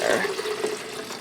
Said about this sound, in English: So I'm going to go ahead and start pouring it into my pitcher.